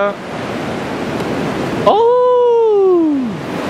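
Ocean surf rolls onto the beach at Daytona Beach, Florida, a steady broadband wash that fills the whole clip, with a long, drawn-out tonal cry rising over it midway and fading toward the end.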